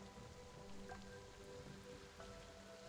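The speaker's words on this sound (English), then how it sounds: "let me get some good old heavy rain going" Heavy rain sound effect, a dense, steady wash of rainfall hissing and pattering on surfaces throughout, with faint tonal undertones beneath.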